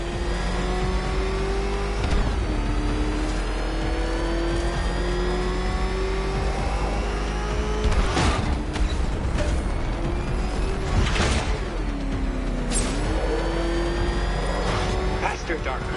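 The Batmobile's engine in Batman: Arkham Knight gameplay drones and revs continuously, its pitch rising and dipping with sharp bursts of acceleration, while a voice talks over it throughout.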